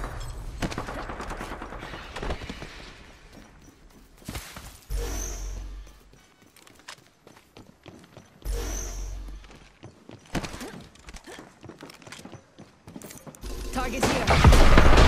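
Video game gunfire aboard a ship: long rattling bursts of automatic fire alternate with heavy booming blasts and brief quieter gaps, loud and close throughout.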